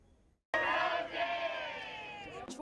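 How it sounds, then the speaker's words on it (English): Troy students chant and cheer at the Alabama Higher Education Day rally in Montgomery, a sudden loud roar of many voices that holds steady, close and dense, after a brief quiet moment. "Troy students were among the many chanting and cheering at the Alabama Higher Education Day"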